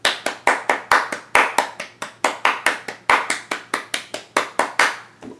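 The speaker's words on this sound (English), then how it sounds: "we do have some hand claps that syncopate really nicely with the drum" Sharp hand claps in a song, struck in a quick syncopated rhythm of repeated pairs and triplets, bright and close, running steadily through the passage.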